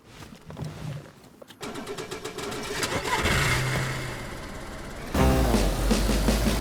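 A car engine in a survival video game cranks and catches, then idles and revs up as the vehicle pulls away, loud and close, with the engine note rising and a sharp surge near the end.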